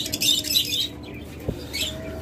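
Caged pet birds such as lovebirds, cockatiels and doves give a few short, high chirps in quick bursts, fairly close, with soft background noise between calls.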